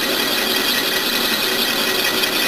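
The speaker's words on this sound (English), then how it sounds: "So first thing I'm going to do is cut this chamber out. It's pretty basic on a lathe." Metal lathe cutting a chamfer into a metal part for an FL 250 long rod, a steady continuous cutting and motor noise held at an even level throughout, with no voices.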